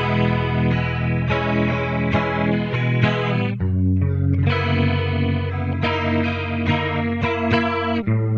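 An electric guitar with a compressor and an analog tri-stereo chorus pedal switched on plays a shimmering, wavering melodic phrase. The notes sustain and overlap, close and loud, with one short pause midway.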